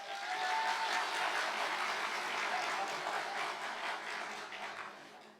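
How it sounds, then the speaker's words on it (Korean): Parents cheering and clapping at a church dedication service form a steady, broad wash of crowd noise that holds for several seconds and then slowly fades. "지금 환호가 나온 것은 저희가 한 게 아니고 학부모입니다"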